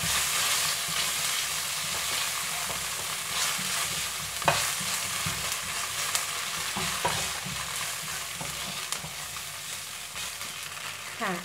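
Chopped shallots and sweet preserved radish stir-frying in a pan for glass noodle pad thai, a continuous even sizzle with occasional light taps and scrapes of a spatula.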